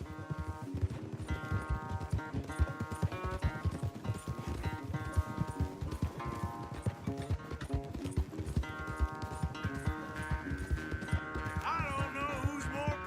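Horse hooves gallop at a fast, steady rhythm during a race in Red Dead Redemption II, loud and continuous throughout with musical tones layered over the pounding clip-clop.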